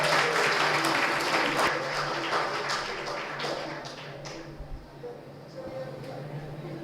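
Teachers' Day audience at a college in Bemetara, Chhattisgarh, giving a sustained round of applause to welcome a speaker, dense clapping that gradually thins and fades over several seconds.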